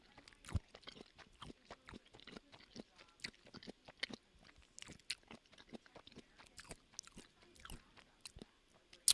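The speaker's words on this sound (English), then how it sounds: "I'll be eating my third world fruit" Close, quiet chewing and crunching of fruit, with many soft bites and wet mastication sounds in an irregular rhythm, recorded intimately.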